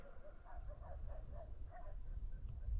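Village dogs bark in the distance, a series of faint, rhythmic yaps and bow-wows repeating over steady low background rumble, with no talk.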